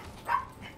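A single short dog bark from the Star Wars Jedi: Survivor game sounds once, moderately loud and distant, against a quiet game background.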